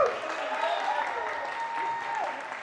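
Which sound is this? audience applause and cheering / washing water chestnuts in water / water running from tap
audience applause and cheering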